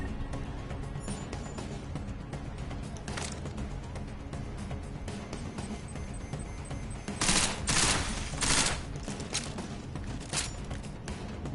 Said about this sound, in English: They're using freaking tactical shotguns.